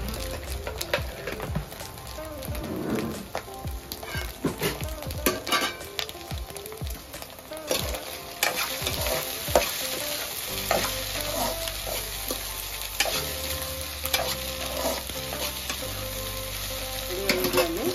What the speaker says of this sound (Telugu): ఈ విధంగా కొంచెం కారం, సాల్ట్ వేసుకొని ఈ విధంగా ఫ్రై చేసుకొని పక్కన పెట్టుకోవాలి